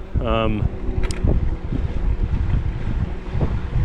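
Steady low wind rumble buffeting the microphone while riding a Ride1Up Turris e-bike, broadband and continuous, with a brief tonal chirp near the start and a short high click.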